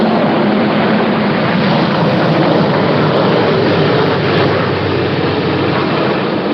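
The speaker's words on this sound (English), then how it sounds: "You guys see that helicopter?" A loud, continuous roar of engines and rotor noise from two helicopters flying overhead fills the air, steady and broad without any break.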